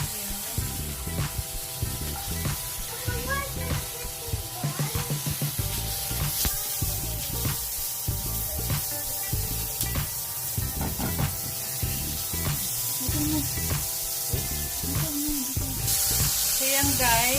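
Onion fries in a pan for chicken adobo with chicken liver, giving a continuous close hissing sizzle with scraping stirs throughout, while someone talks over it at times.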